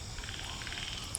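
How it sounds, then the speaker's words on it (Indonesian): Frogs croak steadily at night around a writer's house, a dense rasping chorus that pulses in quick repeated bursts over constant insect-like hiss, with no voices. "Tuh, guys, masih ada suara itunya, guys. Kodok."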